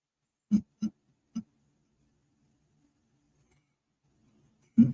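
Birds call outside in three short hooting notes close together, then a pause of several seconds before another call, each one low, brief and fairly distinct against near silence.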